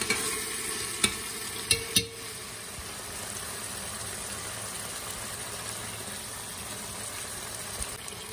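Chopped tomatoes and peppers sauté in a pan for a meat and dried bean stew, giving a soft, steady sizzle with a few sharp spoon clicks near the start and no talking.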